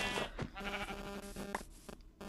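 A sheep in the Minecraft video game lets out a few short, nasal bleats in quick succession, close and fairly clear, with no talking over them.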